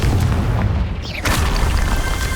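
Fire-blast spell explosion in the Hogwarts Legacy video game, a dense, loud booming burst filling the whole moment with a rumbling low end and a second surge midway.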